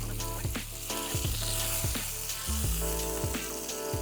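Masala-spiced chicken breast fries slowly in a pan, giving a steady, close sizzle and crackle under a repeating tonal music bed, with no speech.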